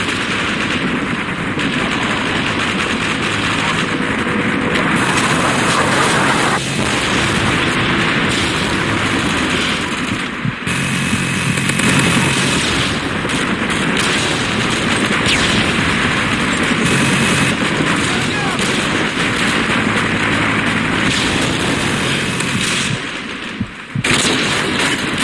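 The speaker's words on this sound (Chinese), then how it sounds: "我方武装直升机入境" Sustained automatic gunfire from an attack helicopter in the online shooter Call of Duty Online on a desert map, loud and continuous for the whole stretch, with dense overlapping bursts and distant booms.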